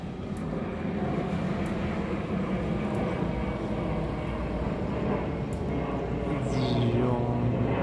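An airplane passes overhead with a steady, broad engine roar that holds at moderate distance throughout.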